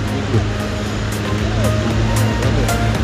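Ocean waves breaking on a beach in Thailand, a steady broadband wash of surf filling the whole clip, with a low engine-like hum and faint voices mixed in.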